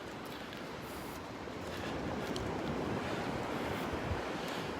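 Waves wash onto a Gulf beach at Delnor-Wiggins as wind buffets the microphone, a steady broadband rush that swells slightly louder partway through, with no voices.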